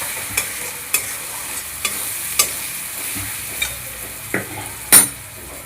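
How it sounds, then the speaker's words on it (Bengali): Spice paste with Kashmiri chili powder frying in a pan for a katla fish dish, a spatula stirring and scraping in repeated sharp strokes over a low sizzle, with a few words spoken briefly. "দিয়ে এবার মশলাটাকে ভালো করে ভেজে নেবে।"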